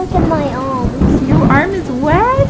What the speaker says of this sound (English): Oh, there's some thunder.